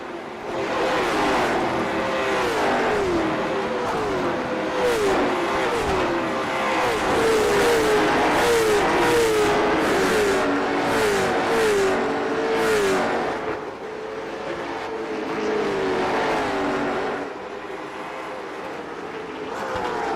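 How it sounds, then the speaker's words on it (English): A race car on Hoosier tires laps the Roval circuit in an IROC Challenge Series race, its engine roaring loud and steady with a wavering, squealing tone riding over it for the full stretch. "Kevin McCann laying some rubber on the racetrack on lap number 1"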